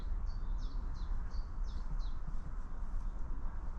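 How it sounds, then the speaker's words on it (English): A bird repeats a short, high chirping phrase about six times in a quick series, faint over steady low outdoor rumble. "We get a chance to enjoy the bird song as well."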